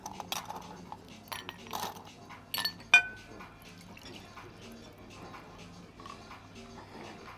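Lemonade from a one-liter bottle poured into drinking glasses, with a soft liquid trickle, a few light glass clinks and one sharper tap near the middle, set against quiet room noise.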